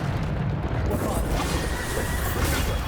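A dense, roaring blast from the Bombarda spell in Hogwarts Legacy, a continuous loud burst of rumble and debris that fills the whole moment without letting up.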